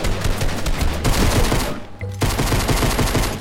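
Rapid automatic gunfire in Fortnite, loud dense bursts of shots in quick rhythm with a brief pause near the middle before firing resumes.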